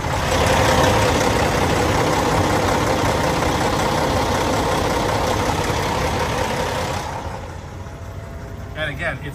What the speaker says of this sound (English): You can actually hear the motor.